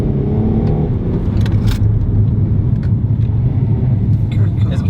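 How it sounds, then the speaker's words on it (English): A 2016 Renault Megane GT's engine drones steadily from inside the cabin, with a brief quick paddle-shift change in revs as the car drives on, under a person talking. "So listen to how quick this gear shift is."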